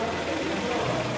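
An Opel Corsa Ultimate 130hp engine idles, heard from outside at the front of the car, a steady even mid-pitched hum throughout the brief moment with no revving.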